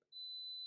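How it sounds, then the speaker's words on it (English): Instant Pot pressure cooker giving a single steady electronic beep, a pure sustained tone heard alone in a quiet room. "if you hear that beeping, that's my Instant Pot telling me that something is done"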